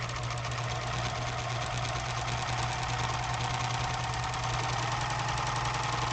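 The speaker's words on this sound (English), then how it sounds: "We're sewing a shorter stitch length when we do a rolled hem, so it takes a little bit longer to get that through the machine there." A serger sewing a rolled hem at a short stitch length, giving a steady, fast mechanical whir and rapid ticking that runs evenly throughout, close and moderately quiet.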